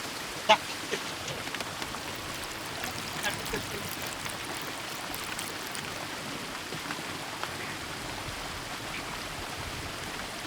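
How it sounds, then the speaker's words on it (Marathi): Steady rain falls outdoors as a continuous, even hiss of drops on surfaces, moderately loud and unbroken, with a faint voice now and then underneath. "मी गाडीत जाऊन बसतो, पाऊस पण आला आता."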